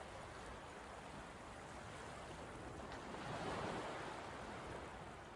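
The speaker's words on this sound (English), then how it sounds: "from the silence, the crashing of waves." Ocean waves crash and wash steadily in the opening of the video game Anodyne 2: Return to Dust, a broad continuous surf roar that swells slightly louder midway, with no voices.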